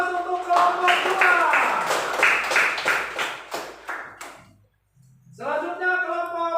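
Students in a classroom clap for a group of classmates, a dense burst of quick claps mixed with bright young voices and cheers, then a short pause before the voices rise again.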